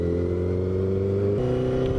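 A motorcycle with a straight-piped Toce exhaust revs loudly up close, its deep raspy tone holding steady then dropping sharply in pitch as the throttle eases, with no talking.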